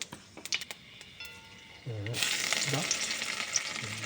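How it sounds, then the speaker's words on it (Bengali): Garlic, ginger, onion and chili hitting hot oil in a kadai with panch phoron: a few sharp taps and clicks, then a loud, continuous sizzle that fills the rest, with a faint voice underneath at moments. "রসুন আদা পেঁয়াজ লঙ্কা সবাই তেলের মধ্যে সব দেওয়া হয়েছে।"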